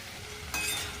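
Masala okra (bhendi) sizzles in a pan as it is stirred, a brief steady frying hiss that swells slightly midway with a scrape.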